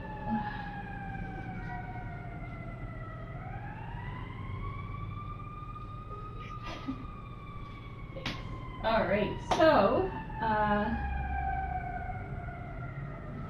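A wailing siren rises and falls steadily over a long stretch, with a person speaking briefly over it near the middle.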